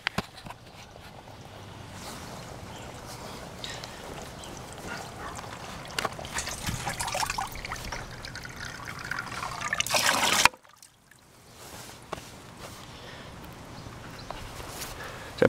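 Water trickles steadily through a shishi odoshi (deer scarer) bamboo fountain, a continuous close dribble that briefly cuts out near the end before resuming, with no voices.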